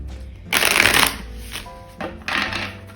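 Tarot cards being shuffled up close, two quick riffling bursts of papery flutter separated by brief quieter handling and soft tones.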